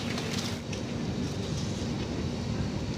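Sairang Express train standing at Goalpara Town station, a steady low rumble and hum of the stationary coaches with broad even noise throughout, no clear movement or voices.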